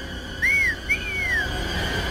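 Two clear whistle notes in a jungle cartoon act as a signal, the first short and rising then falling, the second longer and sweeping downward, heard over a low steady background.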